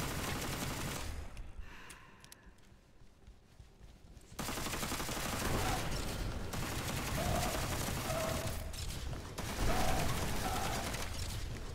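The Cricket Gun firing in the video game Witchfire comes in long, dense stretches of rapid shots, loud and close, broken by a quieter pause early on and brief lulls later.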